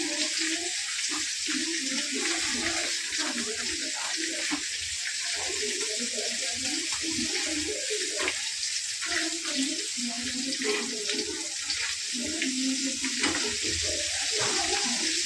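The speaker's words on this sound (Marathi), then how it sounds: "बघा मस्त आपलं पापलेट फ्राय होत आहे." Pomfret fillets frying in a pan, a steady loud hiss and crackle of oil with bubbling spatters, continuous throughout with faint voices underneath.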